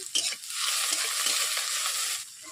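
Onions frying in oil in a pan while a fish jhal is being cooked, with a steady loud sizzle and occasional stirring scrapes, heard alone without talk.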